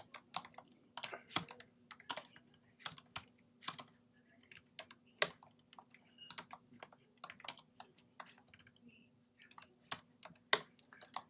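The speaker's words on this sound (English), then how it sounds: "we're just typing it out" Steady typing on a computer keyboard, close and clear, with quick irregular key clicks and brief pauses, over a faint low hum.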